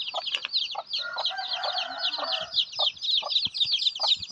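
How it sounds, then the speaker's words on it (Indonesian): Several free-range village chickens cluck steadily and close by, with rapid overlapping calls and a few sharper clucks throughout. "Ki ayam kampung"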